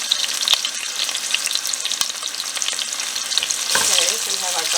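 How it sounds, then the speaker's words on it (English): Garlic and onion fry in a pan over a flame set between medium and high, giving a steady, bright sizzle with crackles and the odd clink of stirring, close and loud, with no talking. "Okay, so we have our garlic and onion going."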